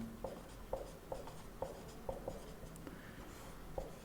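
Pen strokes during a lecture on the President's legislative powers come as a string of quiet, irregular taps and scratches over a faint background hum, with no one speaking.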